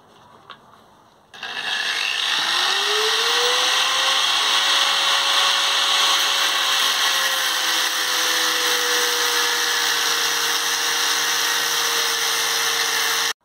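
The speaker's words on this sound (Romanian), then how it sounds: "Am tăiat barele din fier beton" A power tool cutting steel rebar spins up after a quiet start into a loud, steady high-pitched whine with a grinding metal edge that holds for the rest of the clip.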